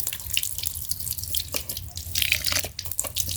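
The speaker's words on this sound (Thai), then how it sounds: "ล้างมือเลยเด้อ" Hands being washed under a running tap while cooking rice, a soft steady trickle of water with splashes and drips, faint and close.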